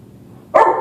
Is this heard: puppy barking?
yes